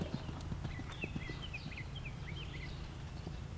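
A horse canters in a riding arena during a jumping lesson, its hooves clip-clopping in a soft, steady rhythm at moderate distance while birds chirp faintly in the background.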